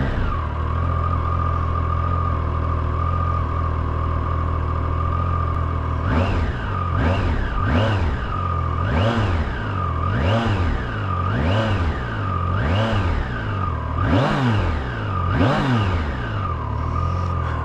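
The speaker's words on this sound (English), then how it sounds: "I absolutely love the way these Triumph 3-cylinder engines sound." A Triumph Tiger Sport 660 three-cylinder motorcycle idles steadily up close, then is blipped through a run of about seven or eight sharp revs that rise and fall in quick succession before settling back to idle.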